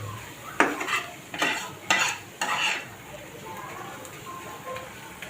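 A spatula scrapes and stirs a pan in four quick, distinct strokes over a soft sizzle as the base for mango chicken curry fries, before the sound settles into a quieter fry.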